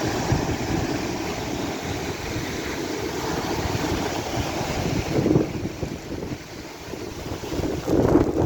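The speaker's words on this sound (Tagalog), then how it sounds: "Ang lakas ng hangin, ang ulan, tapos ang karagatan ay lumalaki." Strong typhoon wind in the Philippines roaring and buffeting the microphone continuously, with surging gusts and a rough, rumbling turbulence, loud and close.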